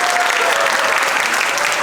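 Dense applause from a group at an end-of-semester school gathering, loud, close and continuous, a steady wash of many hands clapping with no pauses.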